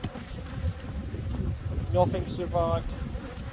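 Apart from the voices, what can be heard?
bees buzzing around the beekeeper at a hive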